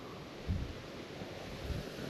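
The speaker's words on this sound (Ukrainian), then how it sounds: "Третій день поспіль сильний вітер." Wind buffets the microphone in a low, steady rumble with a couple of stronger gusts, on the water during a spinning fishing trip.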